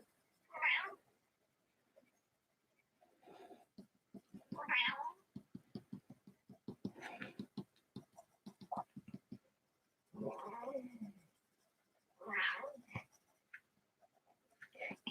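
A cat meows repeatedly in short, rather awkward calls spaced across the stretch, close and clear against a quiet room, with faint scratching of pencils between cries.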